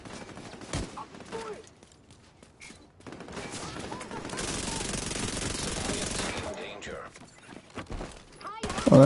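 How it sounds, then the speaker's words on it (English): Minigun in a fast-paced shooter game fires a sustained, dense burst of rapid shots in the middle of the clip, preceded and followed by scattered gunfire and game effects, with a player talking over parts of it. "Oh, don't get on that minigun."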